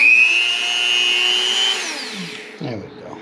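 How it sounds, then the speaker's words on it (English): A Dremel rotary tool on its low setting cuts a hinge pocket for a cemetery gate, a steady close high-pitched whine with a bright tone that drops and winds down near the end. "I have the Dremel on low."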